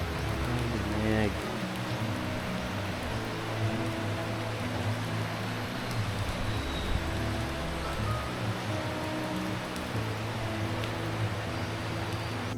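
Rain falling around a cabin in Baguio City, a steady hiss of drops throughout, with a low engine-like hum underneath and a brief tonal sound early on.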